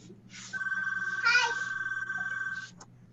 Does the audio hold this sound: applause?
no